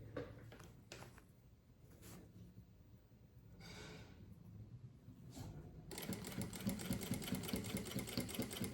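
A sewing machine stitches a seam over its starting point on a small case, with short bursts of running early on and a steady, louder run of stitching over the last few seconds.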